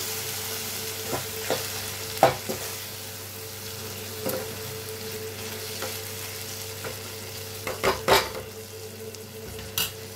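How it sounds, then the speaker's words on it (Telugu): Ingredients for a dry fish curry fry in a pan with a steady, even sizzle. Occasional sharp utensil taps and stirring scrapes cut through, close and clear, with no voices. "ఇది కూడా వేసుకొని బాగా ఫ్రై చేసుకోవాలన్నమాట"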